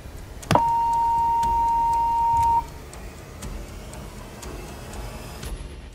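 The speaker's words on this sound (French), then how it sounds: "Là je pense qu'il est bientôt temps de lancer la deuxième alarme." A loud, steady electronic alarm tone starts abruptly and holds for about two seconds before cutting off, followed by quiet room ambience; the second alarm in a group-conformity experiment.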